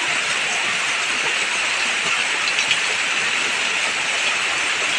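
Water gushes steadily out of a small drain outlet partly clogged with trash, a continuous close, loud rushing wash with no break and no voices.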